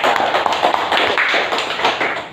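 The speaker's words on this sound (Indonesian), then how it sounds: "Tepuk tangan dulu untuk Siti dan Siti" Students in a classroom clap for classmates, a dense, continuous burst of many hands nearby that fills the whole moment without pause.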